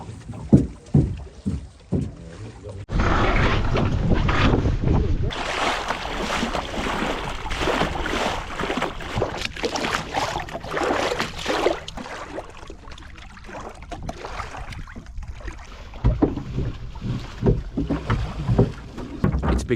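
Oars pull a newly built replica of a 1900s Dutch fishing boat, a net-fishing vessel on open water, with rhythmic knocking strokes at first, then a steady rush of water and wind noise against the microphone, no voices.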